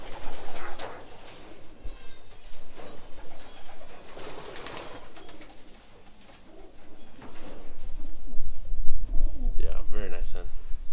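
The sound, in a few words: racing pigeons cooing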